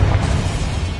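A Confringo fire spell explodes in Hogwarts Legacy, a dense, loud, low booming blast that fills the second without a break and stays heavy in the bass.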